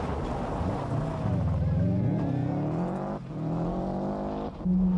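A Subaru rally car at the 1992 Galway International Rally swings through a handbrake turn, its engine note rising and falling as it revs, dips briefly and surges again amid wind noise.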